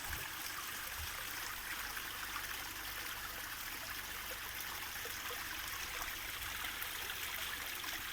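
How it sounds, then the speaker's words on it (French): A newly finished garden pond waterfall cascades steadily, a continuous close rush and trickle of falling water with no pauses and no voices. "là on voit la cascade, la nouvelle version de la cascade"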